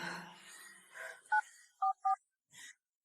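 Telephone keypad tones sound as a number is dialed: one short beep, then two more in quick succession, clear and close, after some faint murmuring and before a brief further tone.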